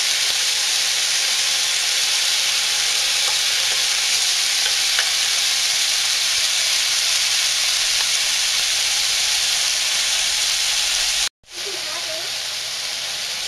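Beef fries loudly in a pan, a dense steady hiss of sizzling that cuts out briefly near the end before resuming.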